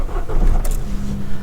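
A low-mileage Ford Ka's petrol engine fires up and settles into a steady, close idle, loud and clear with no talking over it.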